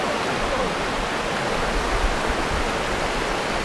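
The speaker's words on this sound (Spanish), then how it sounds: "esta es una de las cascadas más grandes que hay aquí en el río" A large waterfall on a river, heard up close as a loud, steady, unbroken roar of rushing water that fills the whole stretch.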